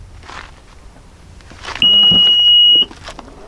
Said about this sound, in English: So in order to open it, just wave your foot under the bumper,